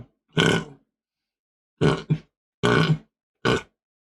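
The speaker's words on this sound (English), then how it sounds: "Excuse me, I got a burp." A close, throaty burp comes in a few short voiced bursts separated by silence, loud and near in a quiet room.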